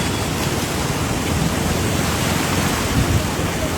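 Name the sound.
swollen Sangu river rushing water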